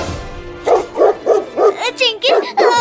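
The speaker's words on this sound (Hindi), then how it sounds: "अरे चिंकी, वो देखो, वो कुत्ता फिर से आ रहा है और वो एक और कुत्ते को लेकर भी आ रहा है।" Cartoon dogs bark in a Hindi comedy animation, a quick, even run of about seven loud, close yapping barks after a brief quiet start.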